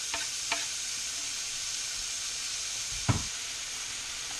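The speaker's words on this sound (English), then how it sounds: "And here I am pan frying the sliced tomato." Steady, loud sizzling of sliced tomato frying in a hot pan, with a couple of sharp clacks of a utensil against the pan.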